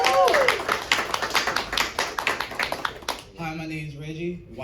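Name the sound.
audience applause for Reggie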